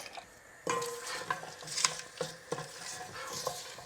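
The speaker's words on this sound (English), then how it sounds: "Just going to let this sizzle up" Spices crackle and sizzle in hot oil, with scattered pops and light clinks of a utensil stirring in the pan.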